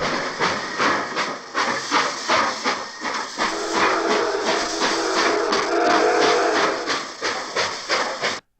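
Steam train hissing, a sound-effect sample: loud, continuous broadband venting with regular puffing pulses throughout and a steadier hiss in the middle, close and without voices.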